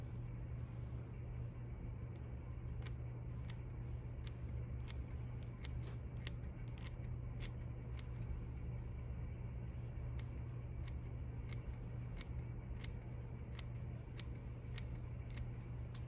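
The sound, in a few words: scissors trimming mink fur muzzle of a teddy bear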